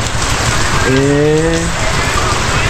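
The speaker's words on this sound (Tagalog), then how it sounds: "Katambal na ata natin yung ulan" Steady heavy rain hisses loudly throughout at Lake Buhi, with a brief tonal voice-like sound rising briefly in the middle.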